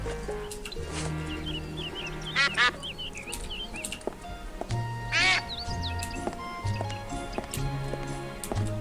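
A cartoon duck quacks in short nasal bursts over looping game music with layered tones in Escape from Monkey Island, the quacks rising clearly twice amid a busy background score.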